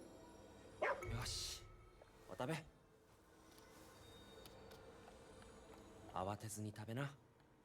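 A dog in the video game Ghostwire: Tokyo barks a few times, with a couple of short yips and a louder bark later, over a low game background while someone talks.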